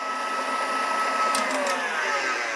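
An electric hand mixer runs steadily on high, beating thick keto chocolate bread batter with a constant whirring motor drone and a faint high whine, no pauses over the short stretch.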